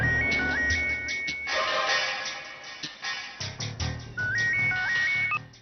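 A mobile phone ringtone plays a bright, repeating electronic melody in two bursts separated by a short busier passage, loud and close in an indoor TV-drama scene.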